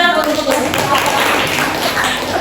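Audience applause for presenters at a teacher training class, a dense wash of clapping from a group, steady and fairly loud throughout with voices mixed in.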